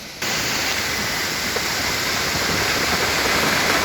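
Muwa waterfall roars as a continuous broadband rush of falling water, loud and steady throughout, with no voices over it.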